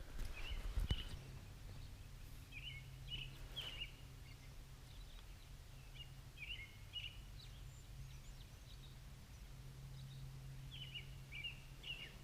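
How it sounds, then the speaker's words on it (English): Birds sing in the morning around a solo wilderness campsite, scattered short chirps and phrases repeating at a moderate distance over a quiet low background hum. "listen to these birds"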